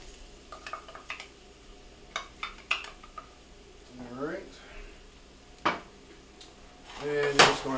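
Spoon scraping and stirring risotto rice through oil in a pan, with irregular clinks and scrapes close by, a brief sizzle, and a louder clatter near the end; people talk over parts of it.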